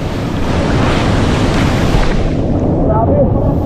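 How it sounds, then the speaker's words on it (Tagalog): Strong rushing water surges loudly and close, a dense continuous roar mixed with wind buffeting on the microphone. "ang lakas ng tubig oh"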